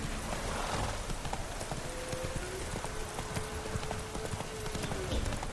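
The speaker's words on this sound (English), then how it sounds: "Go, horse!" A horse gallops in The Witcher 3, with quick continuous hoofbeats pounding under dense game music and ambience, steady and fairly prominent.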